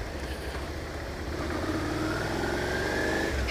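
A Suzuki SV650 V-twin motorcycle pulls away, its engine note rising steadily as it accelerates. The sound is close and continuous, with general outdoor noise around it.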